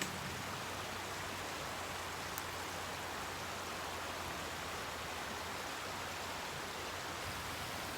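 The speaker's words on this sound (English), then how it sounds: "it's that little creek." A little creek flows in a steady, broadband rush of water, even and continuous throughout, heard from a short distance on open land with no talking.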